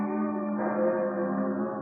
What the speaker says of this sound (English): bells tolling morning.